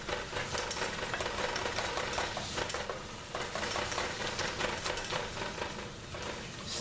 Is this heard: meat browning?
yes